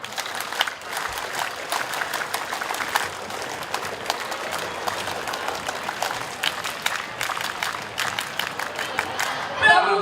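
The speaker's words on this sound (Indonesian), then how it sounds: "Tepuk Pramuka." Crowd of Scouts at a Pramuka anniversary ceremony doing rhythmic patterned clapping and cheering, steady brisk claps from many hands mixed with crowd noise, fairly distant.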